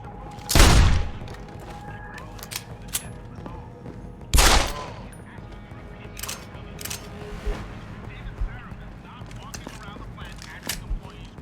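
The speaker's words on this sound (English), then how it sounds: "Fucking gunshots!" Gunfire in the Deus Ex: Human Revolution video game: two sharp, loud shots about four seconds apart, then scattered fainter pops and clatter over a steady background hum.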